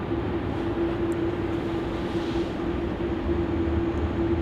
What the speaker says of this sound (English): And Jetstar's taxing at a really quick rate too.